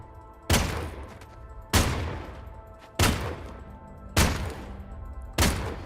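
Five loud, evenly spaced gunshots from a slow-reloading gun in the video game Worlds Adrift, each a sharp blast that decays with a ringing tail about a second apart.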